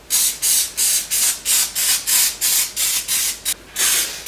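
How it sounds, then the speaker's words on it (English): Cooking spray misted into the little cups of two tart pans in a home kitchen, a string of about eleven short, loud, hissing bursts in a steady rhythm, close and with no voices. "I'm going to give each one of these little cups a spray."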